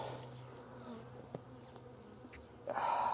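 Honey bees hum around an open hive as frames are pulled, a faint, steady drone with occasional close buzzing passes and a louder surge at the end.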